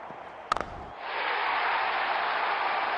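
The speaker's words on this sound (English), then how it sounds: "Crowd is going crazy." Crowd roar swells from a stadium in a cricket video game after a six, rising to a sustained broad cheer that fills the scene, preceded by a few sharp thuds.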